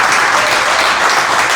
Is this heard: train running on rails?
no